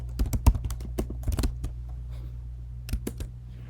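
Someone types on a computer keyboard close by in quick bursts of clicking keys, with a short pause before a final few strokes. No voices are heard.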